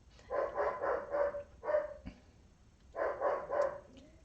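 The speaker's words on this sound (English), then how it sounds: "it's not like Dexter to be barking" Dexter the dog barks indoors in two quick clusters of rapid, moderately near woofs separated by a short pause, with no talk over them.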